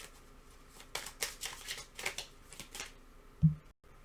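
A tarot deck being shuffled: a quick run of soft papery riffles and flicks, then a single dull tap as the cards settle. Close and quiet, with no speech.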